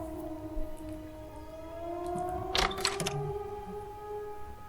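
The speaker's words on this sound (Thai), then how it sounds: "เสียงอะไรวะนะไซเรนเนาะ" A long siren wails with a slowly rising pitch in the video game Zompiercer, sustained throughout, briefly interrupted by a sharp metallic clatter midway.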